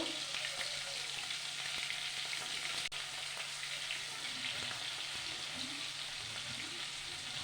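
Prawns fry in a pan with a steady, hissing sizzle, fairly soft and even throughout, with one small tap partway through and no talking.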